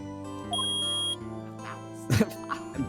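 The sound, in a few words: video game beep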